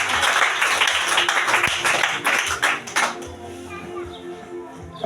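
A congregation at a Swahili prayer service claps for Jesus, a burst of many hands that thins out after a few seconds into scattered claps and room noise.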